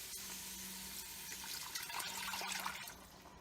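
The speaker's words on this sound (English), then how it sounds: "So I'm going to put the water in first." Tap water running and splashing into a kitchen pot for lettuce soup, a steady close rush of liquid for a few seconds with no talking.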